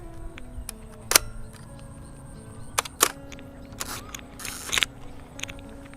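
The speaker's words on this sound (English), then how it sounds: "Okay, mirror lock up." A few sharp mechanical clicks and clacks from a Hasselblad medium format camera body during mirror lock-up, spaced apart, with a brief whirring burst near the end over a quiet hum.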